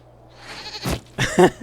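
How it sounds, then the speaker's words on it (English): A goat in Dragon Age Inquisition bleats twice, nasal and wavering. The first cry rises out of low background hum, and a louder, longer second bleat follows close by. "we discovered this man attacking the building with a goat"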